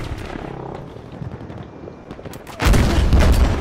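A grenade explosion in multiplayer Battlefield V erupts as a sudden loud, broad boom that rolls on through the final second, following quieter battlefield noise and scattered distant shots.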